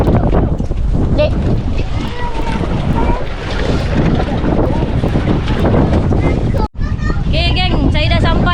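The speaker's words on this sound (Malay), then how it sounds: "Angin kuat." Strong wind buffets the microphone on a fishing raft at Telok Sengat, a loud continuous roar with waves and boat noise, a brief dropout near the end, and people talking throughout.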